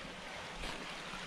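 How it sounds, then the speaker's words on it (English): A small brook near a campsite flows with a soft, steady rush of water, faint and continuous, with no voices. "There's a beautiful little brook here."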